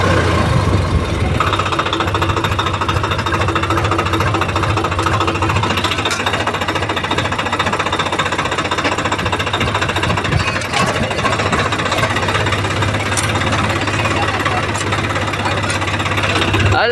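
A mini tractor engine running roughly with a heavy knock. It makes a loud, close, unbroken mechanical drone with a rapid hammering pulse that carries on steadily throughout.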